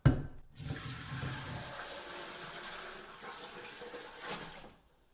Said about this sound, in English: I'm going to just put this through a colander into another big stock pot and just strain all the chunk stuff out